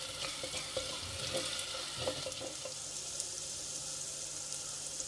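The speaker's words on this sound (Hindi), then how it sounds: "अब इसमें लहसुन अदरक की पेस्ट डालेंगे और इसको थोड़ा सा भूनेंगे।" Garlic ginger paste frying with onions for a restaurant-style chicken handi. The hissing sizzle is steady and bright, with a few soft stirring knocks near the start.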